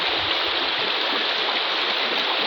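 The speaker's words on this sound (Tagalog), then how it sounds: "Ang lawak ng sapa dito mga idol." Broad, steady rush of a wide stream flowing beside farm fields, loud and continuous with no pauses.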